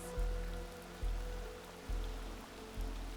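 Steady rainfall from Horizon Forbidden West hisses across the scene, joined by a low rumbling drone that swells in regular pulses about once a second; no voices.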